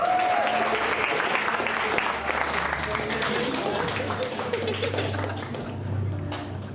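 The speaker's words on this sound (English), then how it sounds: "Give him a round of applause for getting involved." Comedy club audience applauding steadily for a volunteer during a live stand-up segment, a dense wash of clapping with some crowd voices mixed in, fading slightly toward the end.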